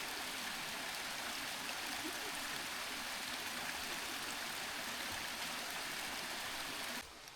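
Steady rushing of a waterfall and stream beside a trekking trail in Nepal's Pokhara Valley, a continuous broadband wash of flowing water, moderately distant and unbroken, with no voices.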